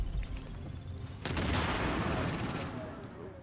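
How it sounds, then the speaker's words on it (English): Gunfire in Tom Clancy's The Division inside a subway morgue, a burst of rapid shots and crackling impacts that swells into a dense noisy roar, then fades. "Someone started firing a bit early then."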